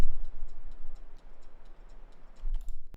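An old clock ticks steadily in an even, regular rhythm over a low hum, a sampled ambience layer for a progressive house track, with no voices.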